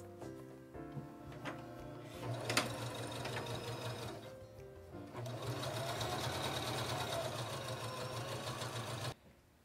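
A Janome JN508DX2B sewing machine stitches a zipper in two steady runs of rapid, close mechanical ticking, with a short pause between them. It stops abruptly at the end.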